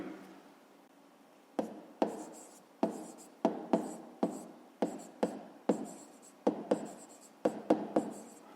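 A pen or pencil writes out a fifth-grade math answer on paper, giving close, crisp repeated strokes and taps in an irregular rhythm with quiet scratching between them.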